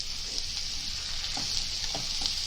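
Tomatoes fry in a pan for soya and masoor dal, making a steady soft sizzle with a few light stirring scrapes, moderately quiet and without voices.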